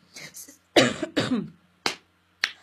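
Several short, harsh coughs in a burst, the first longer and rougher, then two sharp single coughs after a pause, close to the listener.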